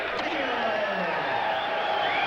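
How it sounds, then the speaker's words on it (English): A boxing arena crowd reacts to the official announcement at an Evander Holyfield fight, a steady wash of roaring, cheering spectators that holds evenly throughout, with a commentator's voice running over it. "Crowd is responding to the official announcement."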